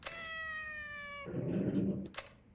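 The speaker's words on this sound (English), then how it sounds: "Maybe meow like a kitten? Probably ought to try speaking their own language." A cat meows once in a long, clear, tonal call in the Yakuza 4 Remastered video game, followed by a brief burst of rustling, scuffling noise and a couple of sharp clicks.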